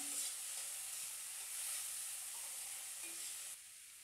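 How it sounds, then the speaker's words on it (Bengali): Chopped tomatoes frying in a pan for South Indian rasam, giving a soft, steady hiss that stays faint and even and then drops away near the end, with no voices. "টমেটোগুলো দিয়ে দিচ্ছি। টমেটোগুলো আমি ধুয়ে কেটে নিয়েছি।"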